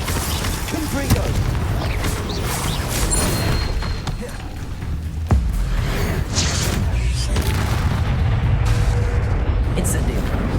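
Confringo fire-blast spells in the video game Hogwarts Legacy, a dense run of booming, crackling explosive bursts over a continuous game soundscape with layered impacts and whooshes, voiced incantations mixed in.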